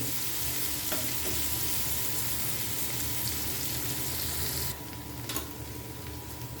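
Onions and green chilies sizzle and fry in a pan, a dense, steady crackling hiss close up that drops somewhat in level toward the end, with a couple of faint clicks and no speech.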